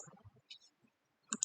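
Mouse clicks on a computer while running a text box app, a few quiet, close, sharp clicks separated by brief gaps of silence.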